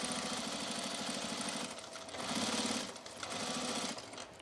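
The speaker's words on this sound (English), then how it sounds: "let's top stitch this edge here" A sewing machine top-stitching along a fabric edge, running in three quick bursts with short pauses between, a steady mechanical whirring and needle chatter close by.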